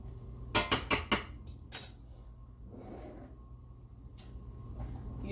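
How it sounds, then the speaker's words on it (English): Metal spoon lifted from a pile of cutlery in a home kitchen, a quick run of four or five bright clinks followed by one louder clatter, then quiet room tone. "Let me grab me a spoon over here."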